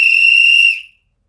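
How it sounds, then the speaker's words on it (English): A little baby doll whistle gives one loud, clear, high-pitched blast that holds steady for most of a second and then cuts off into silence. "Little baby doll whistle."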